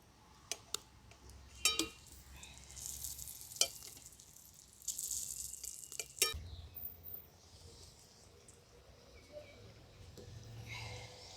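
Potato patties frying in hot oil in a wok give a steady soft sizzle, broken by several sharp clinks and ticks of a utensil against the pan, fairly close and moderately quiet.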